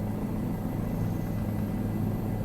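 Helicopter hovering and flying in Microsoft Flight Simulator, likely a 500E or Bell 407: a continuous, loud rotor and turbine rumble, steady and close, with no talk over it.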